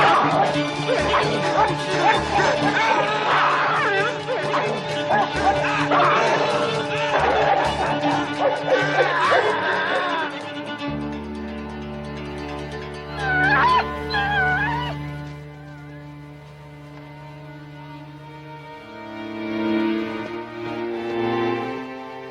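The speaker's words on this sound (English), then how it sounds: "release the Doberman guard dogs for the night. Lucan then has to defend himself against the dogs" Doberman guard dogs bark, yip and whimper through a tense TV scene backed by dramatic music, with a voice speaking over the action.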